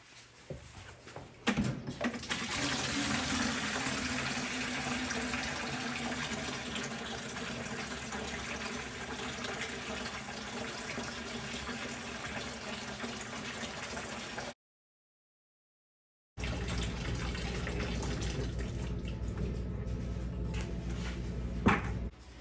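Water drains from a house's plumbing after the main supply is shut off during a whole-house sediment filter installation, a steady rushing, gurgling flow that cuts out briefly and then resumes, close and constant.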